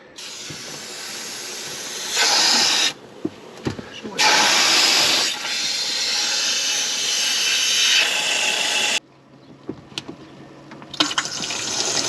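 Water rushes out through the opened valve of a fifth wheel camper tank as a steady, loud hiss that starts and stops in several long stretches, with a few clunks and a voice talking briefly.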